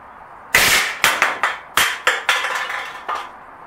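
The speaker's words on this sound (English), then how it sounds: "Well, here we go with burst fire." An Umarex Steel Storm BB pistol fires outdoors in burst mode, giving a rapid series of about eight sharp, loud cracks over roughly three seconds, with no voices.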